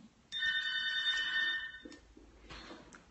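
An electronic doorbell rings indoors with a sustained tonal chime for about a second and a half, followed by faint shuffling, moderately loud.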